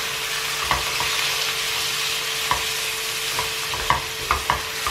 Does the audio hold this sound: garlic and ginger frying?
yes